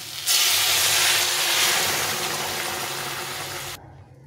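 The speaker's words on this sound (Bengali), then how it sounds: "এখন আমি এখানে জল দিয়ে দেবো।" Hot water pours into a pan of bitter gourd fish curry with potato, onion and tomato, raising a loud, steady sizzling hiss that lasts about three and a half seconds before cutting off abruptly.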